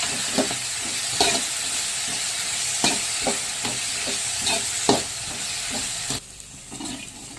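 Small vegetable pieces for nalleru chutney fry in hot oil with a steady close sizzle, broken by a regular series of scraping stirs before the sizzle quiets near the end.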